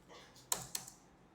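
A few quick keystrokes on a computer keyboard while entering staff details into a property management system, two sharp clicks standing out in a quiet room.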